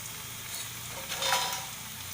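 Puris frying in hot oil, a soft steady sizzle with a brief livelier bubbling burst midway, faint and close with no talking.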